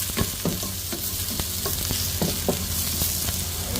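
Chopped onions frying in hot oil for a Filipino beef nilaga, a steady dense sizzle close up with repeated scrapes and knocks of a utensil stirring the pan, no voices.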